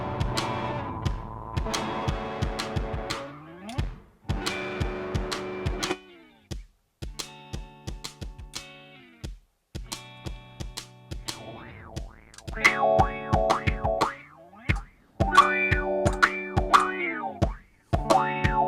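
Guitar phrases are looped through fuzz, Parasite drive and octave pedals, giving plucked notes and chords with synthetic, wobbling bending tones, sharp attacks and gaps, played alone and close without speech.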